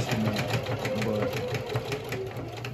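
A sewing machine stitches fabric toward a 90-degree corner turn, its rapid steady mechanical whirring continuous and close throughout with no pauses.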